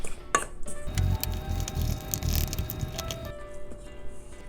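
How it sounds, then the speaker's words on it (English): Wet and dry ingredients for orange cardamom muffins are stirred together in a bowl, giving a soft, continuous squishing and scraping with a few light clinks, close and steady for several seconds. "Now we want to combine our wet ingredients with our dry ingredients and stir to combine."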